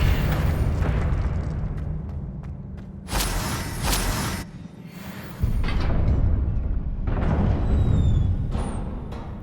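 Confringo blasting spells from Hogwarts Legacy go off as a series of loud booming explosions with whooshing bursts, several heavy blasts overlapping in a continuous roar of magical combat.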